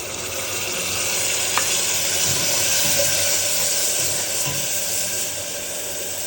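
Spice paste hits a hot cooking pot for a country chicken curry with potatoes, setting off a loud, steady sizzle and hiss with faint stirring scrapes underneath.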